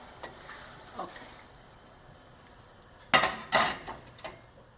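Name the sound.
covering a pot of boiling escarole soup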